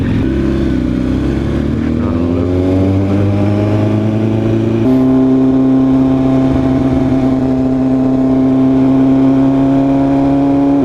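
A Maserati engine revs loud and close through a gear change during a street race against an Audi RS3 in sport mode, a deep steady drone rising in pitch before a shift and then holding a strong, even note.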